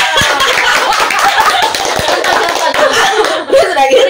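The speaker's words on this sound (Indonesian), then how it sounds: "Tepuk tangan dulu ya." A small group clapping hands at close range, scattered quick claps mixed with chuckles and laughter.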